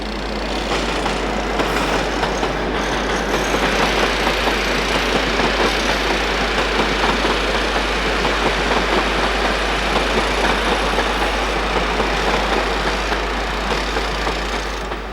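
A British Rail Class 47 diesel locomotive hauls a cross-country passenger train from Birmingham to York via Sheffield, a steady loud engine drone with rail rumble held evenly throughout, heard alone.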